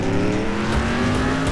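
The fastest car in Next Car Game has its engine held at high revs, a loud, steady, buzzing drone that goes on throughout with no talk.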